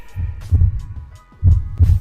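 Steady heartbeat sound effect in a backyard hunting scene, a loud, close double thump repeating in a slow, even rhythm with no other sound.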